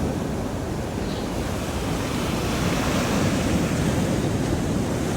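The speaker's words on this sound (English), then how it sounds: "I'm at the ocean." Ocean waves wash continuously onto a beach, a steady broad roar of surf with wind buffeting the microphone, close and loud with no voices.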